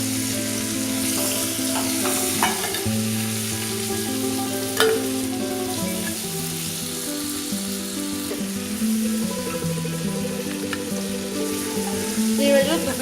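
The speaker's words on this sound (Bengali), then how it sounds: "চিংড়ি মাছগুলো 2 পিঠে আমার ভাজা হয়ে গেছে।" Prawns fried on both sides in oil for Bengali-style doi chingri crackle in a continuous, dense sizzle, close and even, with occasional light clinks and stirring rustles and no talking.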